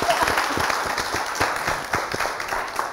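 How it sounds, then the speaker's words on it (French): Studio audience applause on a French television show, a lively, close round of clapping with distinct sharp hand claps standing out from the steady crowd noise. "Est-ce qu'on peut l'applaudir encore,"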